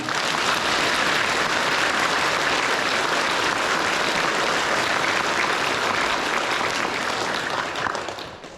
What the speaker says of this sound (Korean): 격려의 박수 부탁합니다.